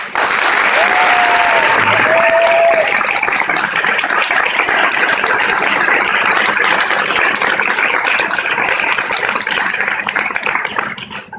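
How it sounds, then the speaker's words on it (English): Loud, sustained applause from a gala audience for the volunteers who organized an anniversary gala, dense clapping filling nearly the whole stretch before cutting off abruptly at the end. "Can we give them a round of applause?"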